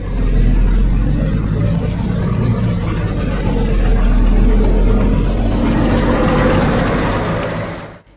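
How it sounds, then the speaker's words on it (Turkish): Heavy trucks strain along an icy road, a loud, low continuous engine roar with labouring revs that holds steady before cutting off abruptly at the end. "Buzlanan yolda ağır tonajlı araçlar ilerlemekte zor anlar yaşadı."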